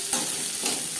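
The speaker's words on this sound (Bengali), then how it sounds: "পেঁয়াজ ভেজে নেব।" Chopped onions meet hot mustard oil in a pan: a brief, even sizzle with two soft stirring scrapes, close and fairly loud.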